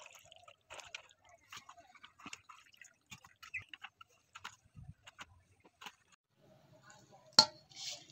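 Peeled taro stems are rinsed by hand in water, giving soft sporadic drips, splashes and squishy handling sounds at close range, with a few clicks and no speech.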